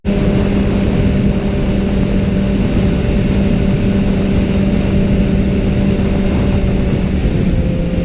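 A BMW S1000R motorcycle on the move: a steady, loud engine drone with continuous wind rush, holding an even tone throughout with no speech.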